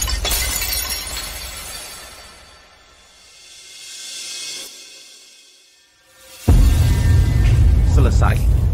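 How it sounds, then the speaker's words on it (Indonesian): Antique porcelain pieces, including a chamber pot, smashed and shattering, with a loud crash of breaking ceramic near the end after quieter rumbling, and voices arguing around it. "Hari ini, akan kuhancurkan semua."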